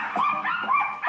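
A Maltese dog gives short yips and whimpering whines, a rapid series of high, nasal cries close up with no talk.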